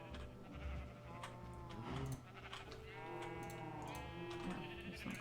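Sheep in a video game bleat several times in quick succession, fairly close and of moderate loudness, with wavering cries overlapping a low background hum and no speech.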